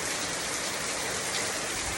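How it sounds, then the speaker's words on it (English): Steady, dense rainfall heard from a balcony in Africa, a continuous loud hiss of drops with no pauses and no talking. "So I'm currently here in Africa and it's raining."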